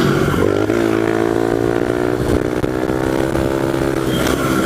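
A pit bike engine held at high revs in fifth gear during a wheelie along a beachside main strip: a loud, buzzing, continuous drone that wavers slightly in pitch, up close and without any voices.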